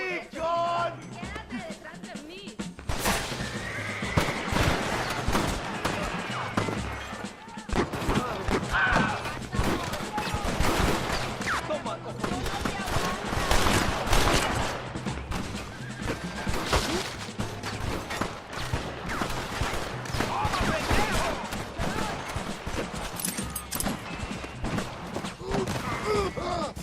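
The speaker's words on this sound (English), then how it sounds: "Stop shooting at me!" Repeated gunfire from a Red Dead Redemption shootout, with volleys of shots, thuds and loud bursts running almost continuously at close range alongside game sounds.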